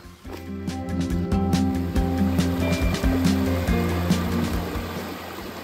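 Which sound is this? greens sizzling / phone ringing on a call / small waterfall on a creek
small waterfall on a creek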